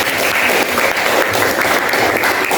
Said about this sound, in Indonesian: terima kasih, tepuk tangan lagi